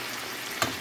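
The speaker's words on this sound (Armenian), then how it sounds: "Հիմա թող սա լավ տապակվի" Pieces of pork or chicken fry in a pan with a steady, close crackling sizzle, broken by one brief louder pop near the end.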